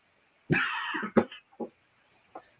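A person coughs up close, one long rough cough followed by a few shorter hacking bursts, then quiet.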